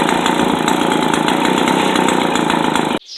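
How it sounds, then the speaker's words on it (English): A Wards Riverside moped's small engine idles loudly and steadily close by, a buzzing even putter that cuts off abruptly near the end. "Not only is it running, but I can't believe it's actually idling properly."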